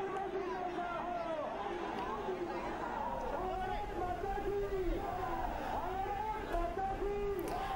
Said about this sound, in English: a complete commotion breaking out in the grounds there at a rally in Gaya